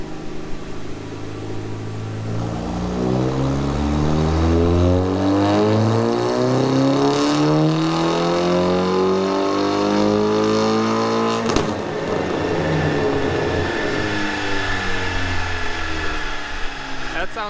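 A tuned Audi S3 with a 1.8T engine, new downpipe and exhaust revs up steadily on a dyno, its pitch climbing to a loud high roar, then breaking off sharply and dropping back to a lower drone.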